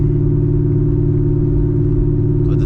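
A 900hp manual Chevrolet Camaro ZL1 drones steadily from inside the car on a morning drive, a loud constant low engine rumble with heavy tonal hum and no talking.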